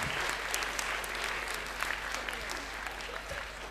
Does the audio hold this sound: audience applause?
yes